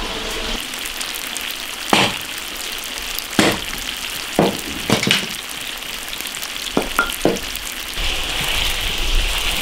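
Tofu frying in an iron wok sizzles loudly and steadily, with several sharp clanks and scrapes of a utensil against the metal as the pieces are browned on both sides.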